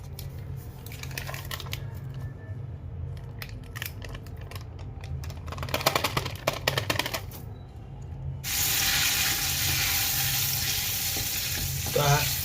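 Mashed potato, cabbage and other vegetables for green pav bhaji sizzle and fry in Amul butter in a pan, a steady close hiss that jumps sharply louder partway through as more ingredients go in.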